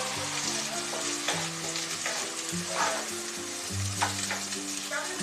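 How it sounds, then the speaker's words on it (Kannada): Oil sizzling steadily in a pan as salted filling for crispy spicy snack pockets cooks, with stirring scrapes and a continuous close frying hiss. "ಇನ್ನೊಂದ್ಸಲ ಎಣ್ಣೆಯಲ್ಲಿ ಚೆನ್ನಾಗಿ ಬೇಯಲಿ."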